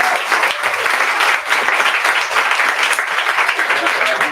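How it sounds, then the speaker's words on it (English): An audience at a cannabis industry event for women breaks into a dense, steady round of applause, many hands clapping together close by for the whole stretch without a break. "So real quick, a round of applause."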